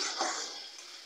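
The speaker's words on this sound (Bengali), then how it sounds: "খুব ভালো করে মশলাটাকে কষিয়ে নিতে হবে।" Masala spice paste sautéed in hot oil for a rohu fish curry, giving a faint, steady hiss of sizzling with no sharp pops, close by and unaccompanied by talk.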